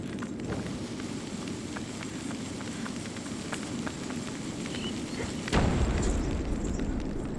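A bomb lit from a torch explodes in the video game Ico, a sudden loud boom with a rumbling low blast that hangs over steady ambient game sound and light crackling.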